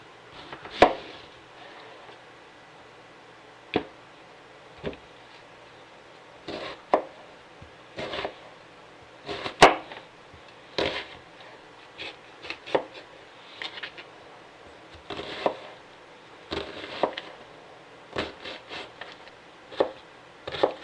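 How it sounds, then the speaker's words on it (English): An onion being cut with a knife on a cutting board for marinara sauce, producing sparse, irregular sharp chopping taps spaced a second or more apart over a quiet background. "There's supposed to be a specific way of cutting onions."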